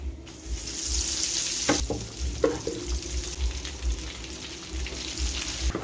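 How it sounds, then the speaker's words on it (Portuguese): Savory snacks frying in hot oil in a home kitchen during a large batch order, a steady broadband sizzle running throughout with a few brief clinks and stirring knocks, fairly close and with no talk. "Estou fritando agora os últimos."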